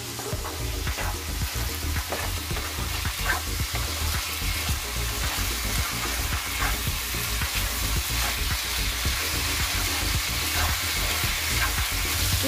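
Minced chicken keema frying in a pan, loud continuous sizzle with rhythmic scraping stirs throughout, close and unbroken, no talking.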